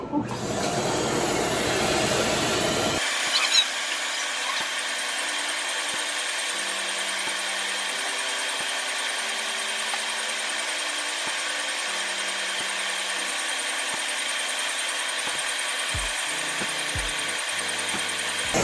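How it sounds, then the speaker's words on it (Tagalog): A loud burst of hissing noise cuts off, leaving a steady mechanical whir and hum of a suction vacuum during an acne-mark laser treatment that runs on evenly, with faint tones and occasional clicks. "We have to put on the vacuum, ha? Medyo maingay lang."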